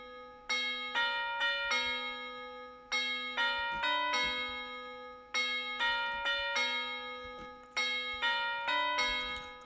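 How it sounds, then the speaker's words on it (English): A melodic bell sample programmed into a Detroit-style beat in FL Studio, playing bright repeated pitched notes in short rhythmic phrases with a clean ringing decay, loud and alone. "Next thing I did was I added a bell, raised the velocities on these"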